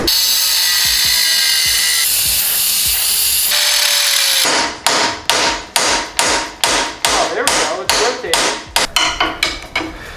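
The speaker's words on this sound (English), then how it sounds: "I'm gonna try and very delicately angle grind it off" An angle grinder cuts through a steel wheel bearing shroud on a twin-supercharged CBR600RR-engined cross kart, first as a steady loud whine, then broken into a run of short repeated bursts that stop and start.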